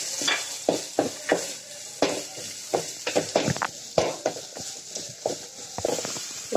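Onions frying in a pan for chicken hariyali, a low sizzle under repeated sharp knocks and scrapes of a utensil stirring, irregular and close.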